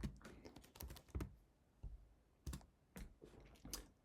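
Typing on a computer keyboard, a close, quiet run of irregular key clicks and taps in small clusters with short pauses between them.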